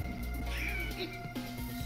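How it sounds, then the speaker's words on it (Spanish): Several cats meowing in a Final Fantasy game, with rising and falling cries over a steady, low game backdrop, fairly close and without talk. "Los gatos se han parado a mirar. Sí, hay un montón de gatos"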